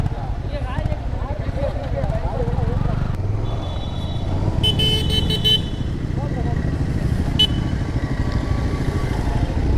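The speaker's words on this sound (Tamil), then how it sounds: "ஒரு வண்டி பாருங்கள் ஆர்எக்ஸ் ஹண்ட்ரட" A Yamaha RX100 motorcycle rides past on a hill road near Valparai, its engine loud and continuous under wind rumble, with short horn toots midway and people talking throughout.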